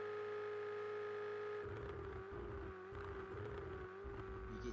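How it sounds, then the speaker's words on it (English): GTE race car engine in a racing video game at Bathurst, roaring and rising and falling in pitch through downshifts, a sustained loud drone with rhythmic pulsing revs throughout. "You can hear that engine roar on the downshifts"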